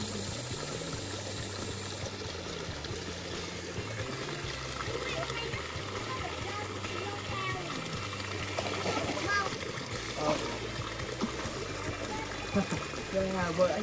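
Water flowing in a mountain stream in rural woodland, a steady close rush and trickle running continuously beneath a person talking throughout.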